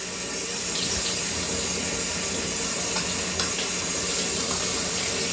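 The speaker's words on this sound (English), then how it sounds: "Rinse up my hands." Tap water runs steadily into a kitchen sink while hands are rinsed, a constant close splashing hiss with slight shifts as the hands move through the stream.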